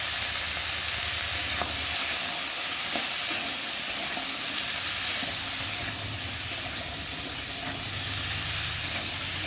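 Mixed vegetables stir-fry with salt and turmeric for Bengali shukto, making a constant close sizzle with light stirring scrapes and faint ticks throughout.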